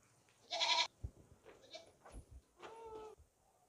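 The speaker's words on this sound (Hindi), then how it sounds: "ये बकरी देखें भाई" A goat bleats at a livestock market where young goats are shown for sale, one loud, clear bleat near the start followed by a softer, shorter call a couple of seconds later, with quiet background noise between.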